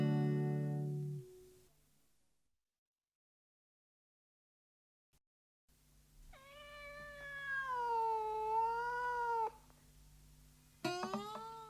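Marmalade, an orange cat, gives a long drawn-out meow that rises and falls, clear and close, after a silent gap, and a second sharp call starts at the end.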